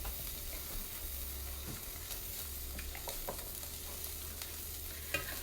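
Chicken pieces sizzle and fry steadily in a hot pan, a continuous close hiss with occasional stirring clatter, no talking.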